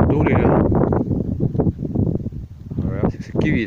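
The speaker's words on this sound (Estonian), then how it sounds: "Ilm tuuline." Wind gusts across a rocky hiking trail in Ireland, roaring and buffeting loudly against the microphone in uneven surges, with a person speaking over it.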